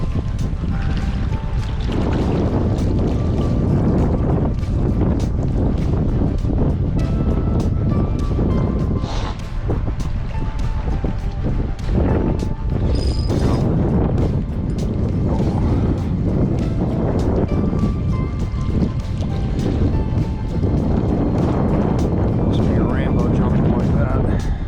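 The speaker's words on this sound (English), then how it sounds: "Hard to feel the bite with all this wind." Strong wind roars steadily across the microphone while fishing from a boat in wind and rain, a loud, unbroken buffeting rush that carries on throughout with people talking over it.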